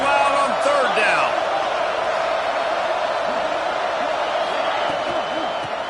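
A football stadium crowd roars steadily on third down at an away game in Arizona, a loud, sustained wall of noise with scattered whistles and shouts, holding level throughout.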